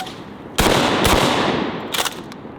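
A DP-12 double barrel bullpup shotgun fires a loud blast with a heavy, booming decay, followed by a second report a moment later and a third sharp burst near the end.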